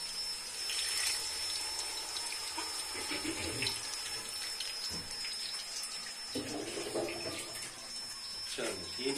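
Water poured into kadai masala in a pan for a restaurant-style chicken handi, a steady broadband splashing and running-water wash lasting throughout, fairly close and continuous.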